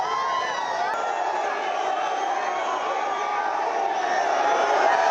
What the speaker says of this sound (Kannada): ಜೈ ಶ್ರೀರಾಮ್ ಘೋಷಣೆ, ಮೋದಿಗೆ ಜೈಕಾರ